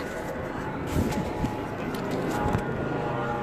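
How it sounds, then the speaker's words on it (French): A helicopter passes overhead on a wet outdoor day at a street gathering, its steady rotor and engine roar filling the background continuously, loud and close, with scattered crowd noise. "Il y a l'hélicoptère, le fameux du 1er décembre."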